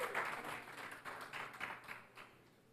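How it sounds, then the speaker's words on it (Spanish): A church congregation claps for several seconds during a Sunday worship service, a dense, fairly faint patter of many hands in a reverberant hall that gradually thins out. "Denle un aplauso al rey."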